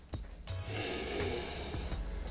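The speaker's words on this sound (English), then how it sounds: "Got to get the sniff in there." Someone takes a few quick, close sniffs at a new Erik Ellington pro model skate shoe made with Li-Ning, with short breathy snorts over a faint background hum.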